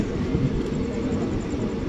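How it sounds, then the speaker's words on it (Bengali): Howrah–Malda Town Intercity Express rushing past close by, a steady loud rumble of wheels and carriages with a high whine above, continuous throughout with no talk. "Howrah Malda town intercity express."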